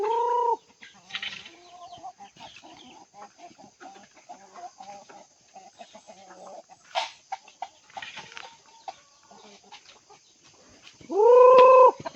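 Chickens cluck softly and irregularly in a backyard coop, with scattered short calls, a few louder squawks, and a rising crow-like call at the end.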